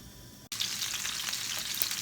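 Porcupine meatballs hit a hot pan and burst into a loud, close, continuous sizzle that holds steady for a couple of seconds.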